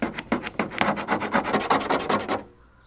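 Rapid, steady back-and-forth rubbing on a car's sticker glue residue with olive oil, about a dozen close, rasping strokes in even rhythm before stopping abruptly.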